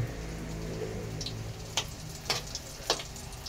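A sardine omelette with moringa fries in a pan, giving a soft, steady sizzle with a few sharp crackling pops near the end, quiet and close.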